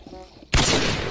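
A Minecraft explosion goes off with a sudden loud blast. Its roar fills the rest of the moment, following some quieter game noise.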